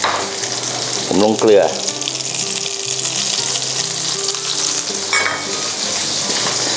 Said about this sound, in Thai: ผมใช้ไฟแรงเราก็ผัดอย่างเร็วคล้ายๆคั่วมันนะ